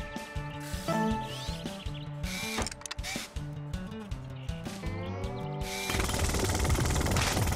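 In a Paw Patrol video game, Rubble's jackhammer chatters in rapid ratcheting bursts over bouncy game music, with mechanical clicks and clunks as the blocked path is cleared, then a louder noisy rumble near the end.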